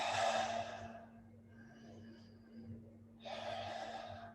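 Two deep, audible breaths, a long breathy exhale and then another strong breath a few seconds later, taken close up during a standing yoga balance pose for runners, with quiet hum in between and no talking.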